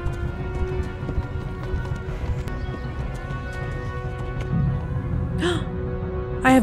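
Hooves of a horse galloping in Kingdom Come: Deliverance, a steady clip-clop rhythm running under constant low game rumble, with a brief whinny-like call near the end.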